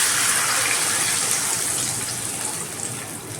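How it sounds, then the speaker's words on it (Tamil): About half a litre of milk is poured into a pan, making a steady gushing liquid pour that slowly fades toward the end. "இப்போ இதில் ஒரு 1/2 லிட்டர் அளவுக்கு நம்ம பால் சேர்த்துக்கலாம்."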